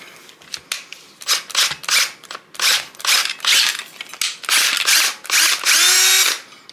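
Power drill boring holes for a custom fuel cell surge tank, heard in a series of short bursts with pauses, ending in a longer continuous run that winds down, loud and close.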